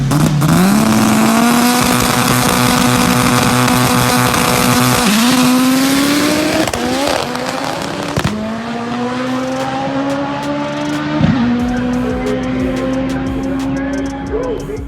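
A boosted Honda B-series drag racing car makes a full-throttle run, its loud, close engine note climbing hard through the revs with sharp drops at three gear shifts. The raw engine roar fills the whole run.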